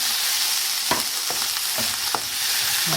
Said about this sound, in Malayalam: ഇതിൻ്റെ പച്ചമണം പോകുന്ന വരെ നമുക്കൊന്ന് വഴറ്റി കൊടുക്കാം.